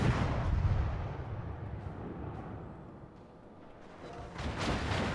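Warship guns booming in a naval video game with a T6 Skåne cruiser, heavy low rumbling salvos that fade and then swell again near the end.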